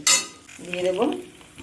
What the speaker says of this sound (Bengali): আলু ভাজা হয়ে গেছে, কেটে রাখা টমেটো আমি দিয়ে দেবো।